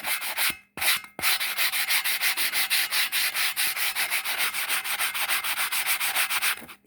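Hand sandpaper rubs over paint-stripped metal in fast, even back-and-forth strokes, close and loud, pausing briefly near the start before keeping a steady rapid rhythm.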